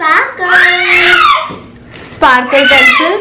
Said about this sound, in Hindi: वो बहुत चिल्ला रहा है